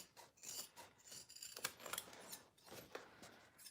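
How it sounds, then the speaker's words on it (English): Scissors snip through fabric while trimming seam allowances on a wallet sewing project, a run of close, crisp cuts and rasping slides at an uneven pace. "I need to sharpen my scissors."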